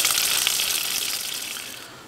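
Running tap water splashes steadily as wool yarn dyed with grape Kool-Aid is rinsed, a bright, close rushing that fades slightly toward the end.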